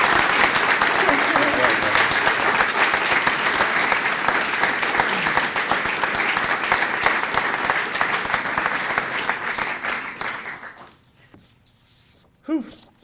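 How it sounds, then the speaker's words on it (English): Audience applause at a golf club foundation scholar awards event, with dense, sustained clapping for about ten seconds that fades out, then a brief voice near the end. "please offer a round of applause for the Foundation"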